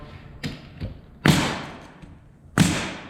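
A pneumatic nail gun fires twice, each shot a loud sharp crack followed by a hissing decay of air, with a couple of lighter clicks of handling before the first shot.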